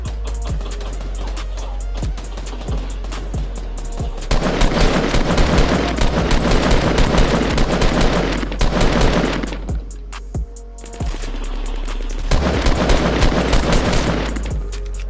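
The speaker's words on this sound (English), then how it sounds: "I'm shooting at him." Fortnite gunfire comes in loud, dense bursts of rapid automatic shots, repeating back to back with short lulls between volleys, punchy and close throughout.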